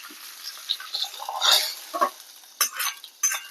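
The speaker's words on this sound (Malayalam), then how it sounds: "കടുക് പൊട്ടി 2 വറമുളക് ഇട്ടിട്ടുണ്ട്. കരിവേപ്പില ഇട്ടിട്ടുണ്ട്." Mustard seeds, dried red chillies and curry leaves sizzle in hot oil as a tempering for sambar or rasam, crackling in uneven bursts with sharp spattering pops near the end, alone and fairly close.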